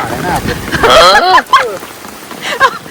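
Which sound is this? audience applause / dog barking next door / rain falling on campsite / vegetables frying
rain falling on campsite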